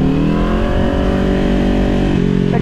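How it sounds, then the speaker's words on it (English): A motorcycle engine hums steadily while riding in first gear at about 20 miles an hour, held at a constant, loud, close drone with no talking. "So now I'm trying to modulate that 20 miles an hour in first gear."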